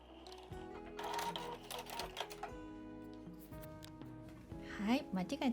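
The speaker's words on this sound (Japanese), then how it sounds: "その後このように折ってまちを縫います。" Sewing machine stitching the folded gusset of a shoulder bag, bursts of quick mechanical needle clatter with pauses, someone speaking over it.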